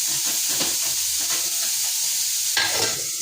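Cauliflower poriyal with onion and green chili sizzles in a pan as it cooks, a steady loud frying hiss with occasional stirring scrapes and a sharper burst of sizzle near the end.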